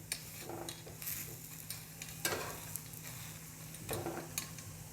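Sprouted moong dhirde pancakes frying in a pan over a medium gas flame, with a steady soft sizzle under scattered clinks and scrapes of a spatula against the pan.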